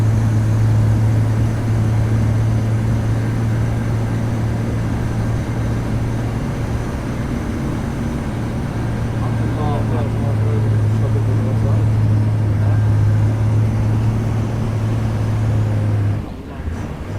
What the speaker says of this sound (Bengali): এখন উপরের দিকে আবার উঠছে।